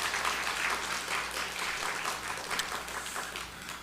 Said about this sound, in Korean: 감사하는 마음으로, 격려의 마음으로 다시 한번 박수하시기 바랍니다